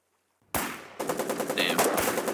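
Gunfire in the video game Foxhole: after a moment of silence, a single loud shot cracks out, then rapid automatic bursts rattle continuously at close range.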